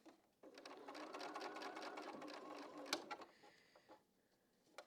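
A sewing machine stitches a quilt block in a steady rapid mechanical run, close and loud, then slows and stops into quieter whirring and a few small clicks.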